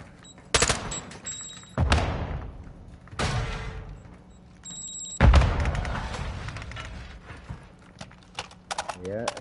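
Bursts of gunfire from the video game DMZ (Call of Duty) crack out in several loud, sharp volleys with echoing tails, followed by a quicker string of shots near the end, while players talk over the action.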